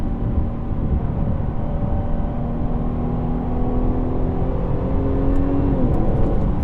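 A 2017 Jaguar XE 35t R-Sport, its 340-horsepower engine driving fast, gives a steady loud rumbling drone with a faint rising whine, heard from close by with no talking.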